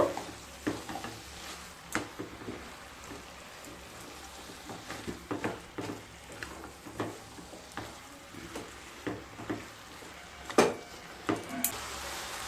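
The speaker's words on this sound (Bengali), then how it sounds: "দিয়ে দিলাম এক চামচ ঘি এবার খুব ভালো মতো মিশিয়ে নেব" Spoon stirring cabbage curry in a pan after ghee and roasted coriander-fennel spice powder go in, a steady series of scraping, clattering strokes over a soft sizzle, close and moderately loud with no talking.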